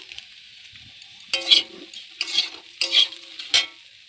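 Mixed vegetables frying with spices in a pan for veg chow mein, loud close sizzling with bursts of stirring and scraping that come and go across a few seconds.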